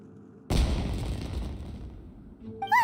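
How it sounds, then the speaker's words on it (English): A sudden boom from an explosion or fireworks in the video game Genshin Impact is followed by a rumbling decay that fades over about two seconds. A short tonal game sound comes at the end. "Was that an explosion?"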